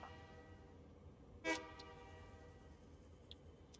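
A single short toot of a train horn inside the cooking video game Overcooked! 2, quiet and brief against a steady low hum of game background sound.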